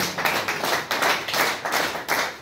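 A church congregation claps together in praise of the Lord, a steady run of sharp, fairly close hand-claps in uneven bursts, with no voices heard.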